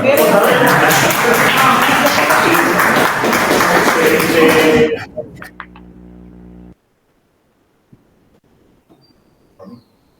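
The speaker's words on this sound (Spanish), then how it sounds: "Aplausos." Audience applause at a talk, dense loud clapping lasting about five seconds before cutting off abruptly, followed by a brief low hum and near silence with a few faint sounds.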